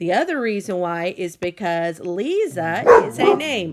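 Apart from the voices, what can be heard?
dog barking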